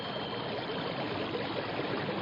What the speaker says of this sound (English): It sounds like a giant waterfall.